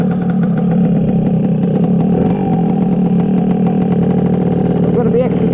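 A Lambretta BGM V4 Sport clubman scooter engine runs with a loud, close, steady, buzzing drone that holds throughout at even intensity.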